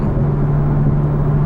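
2014 Porsche 911 Turbo S engine drawing in air, a steady low droning hum with a whooshing intake rush, close and continuous, with no talking.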